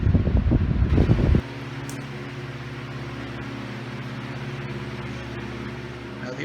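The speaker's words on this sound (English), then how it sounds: "we'll now give a demonstration of this fan, and we'll start off on high" A vintage Diehl 16-inch oscillating table fan runs on high, giving a steady close motor hum and airy whoosh after a brief stretch of talking at the start.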